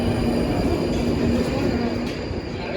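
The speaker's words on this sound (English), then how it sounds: "Is that train over there?" A train rolls through a London station, a loud, steady rumble of wheels with a faint high squeal, continuous and close throughout.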